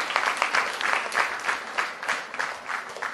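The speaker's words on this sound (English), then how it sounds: "Let's hear a huge round of applause for them" Applause for debate participants on stage at an inter-college debate, a sustained round of clapping from an audience that swells in pulses and holds steady throughout, fairly close and dense.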